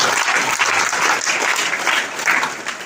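An audience at a poetry gathering applauds in honour of mothers, a dense and steady round of clapping that carries through without pause.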